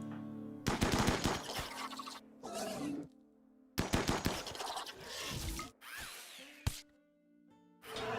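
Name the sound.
gunfire shooting at bugs in RimWorld video game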